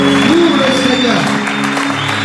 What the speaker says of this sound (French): S'élève en ovation en acclamant le Seigneur